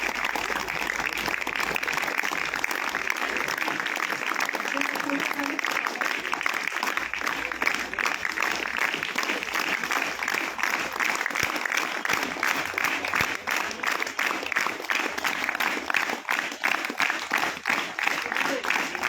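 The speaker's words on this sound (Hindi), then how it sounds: "आपके लिए जोरदार तालियां।" Sustained, vigorous applause from a seminar audience as a guest is called up onto the stage, dense rapid clapping that holds steady and loud throughout, with faint voices mixed underneath.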